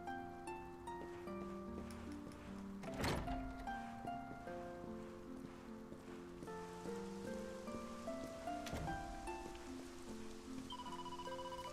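Steady rain falls in a Dragon Quest 11 game scene, a constant soft patter with a couple of louder accent sounds and layered musical tones running throughout.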